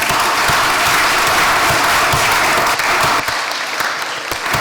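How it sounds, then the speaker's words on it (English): A conference audience at a New Culture Forum event claps in sustained, dense applause that carries on loudly throughout, thinning slightly toward the end. "That's worth a round of applause,"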